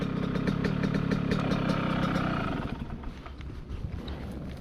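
A Yamaha YZ125 two-stroke dirt bike idling on a trail, a buzzy, steady engine drone close by that drops in level and settles to a quieter idle partway through.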